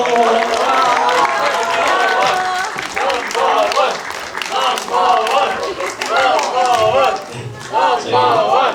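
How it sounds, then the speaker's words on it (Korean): Audience applause and cheering at a film stage greeting for the Korean movie '넘버원' at a cinema in Suwon, with the director and cast; a dense, sustained crowd roar with shouts and voices over clapping throughout. "다시 한번 여러분 뜨거운 박수 부탁드리겠습니다"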